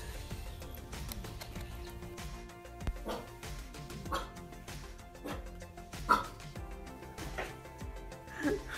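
A puppy gives several short yips and barks at irregular intervals, fairly faint, with a person talking and laughing in the background.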